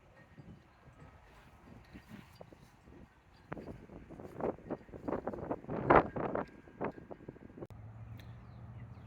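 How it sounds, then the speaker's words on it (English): Wind picks up across Spring Hill Cemetery in Nashville, rising from a soft background rush into louder buffeting gusts that rumble against the microphone before easing off. "There's the wind picking up."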